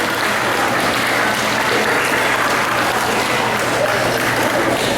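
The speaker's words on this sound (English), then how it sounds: "Give them a round of applause." A steady wall of audience applause at a camp variety show, many hands clapping together loud and continuous with no break.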